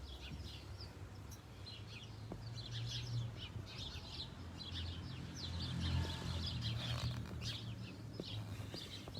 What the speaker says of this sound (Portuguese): Os passarinhos fazendo a festa aqui na Jabuticabeira.